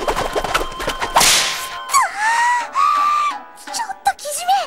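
Whip-crack attack effect from a Japanese drama CD battle scene, a sharp lash burst followed by swooping whistling tones, loud and close with no speech over it.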